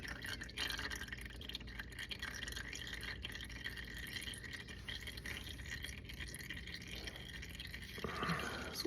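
Engine oil drains from a Tracker 800sx crew side-by-side, a steady trickling, dripping stream heard close and alone for the whole stretch, with a brief rattle near the end.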